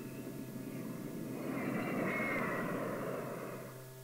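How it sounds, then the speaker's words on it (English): Convair F-106 Delta Dart jet interceptor flying a low course, a steady broad jet roar that swells to a peak around the middle as it passes, then slowly fades. "The plane dropped a few feet beneath the boundary of the skin-tight course and was disqualified."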